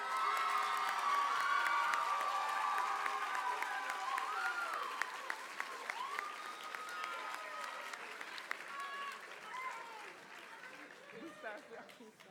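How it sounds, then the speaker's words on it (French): Audience at an evening gala breaking into strong applause with cheers and shouts, loud at first and then gradually thinning into scattered claps and scattered voices over about twelve seconds. "Une bonne main d'applaudissements,"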